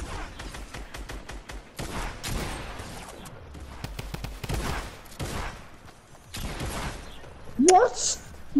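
Gunfire from a Wicks Bounty video game match: a few sharp shots scattered through the clip, with players talking over most of it.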